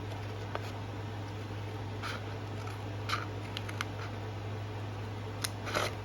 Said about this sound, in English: So I cut all the corners.